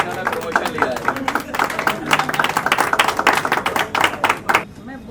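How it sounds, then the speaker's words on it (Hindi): At an office retirement function, a room applauds Bina ji with irregular bursts of clapping that swell and fade, while talk carries on beneath before it trails off. "मैं मंच से कहूँगा कि बीना जी के लिए बहुत ज़बरदस्त ताली बजाइए"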